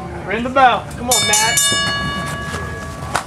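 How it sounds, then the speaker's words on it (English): A bright bell rings out with sustained metallic tones over a noisy room, with people talking before and around it. "Ring the bell."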